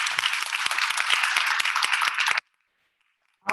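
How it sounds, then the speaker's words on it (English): Audience applause for guests at a community politics event, a dense wash of clapping lasting a couple of seconds before cutting to near silence, then resuming briefly at the end. "Can we get a big round of applause for them?"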